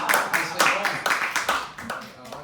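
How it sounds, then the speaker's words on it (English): An audience at a magic show in a small venue in Lowell, Massachusetts applauds, a short burst of close, sharp hand claps in an uneven rhythm that tapers off over a couple of seconds. "Give them a round of applause."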